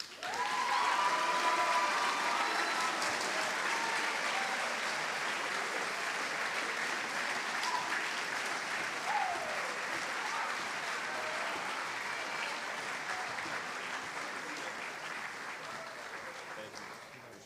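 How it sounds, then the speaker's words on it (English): Long, steady applause fills the space at a high school senior awards ceremony honoring Army Reserve National Scholar athletes, a dense crowd of hands clapping evenly with light chatter and a few voices mixed in, slowly tapering toward the end. "Let's give a round of applause to this year's Army Reserve National Scholar athletes, Thomas Fogg and Delaney Nadu."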